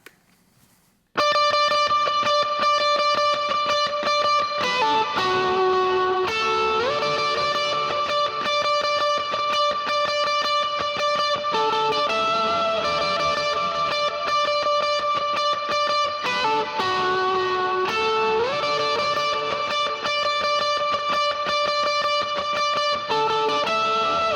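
An electric guitar plays a sustained lead melody with overdriven grit and reverb, notes bending and held without a whammy pedal, continuous and loud after a brief quiet start.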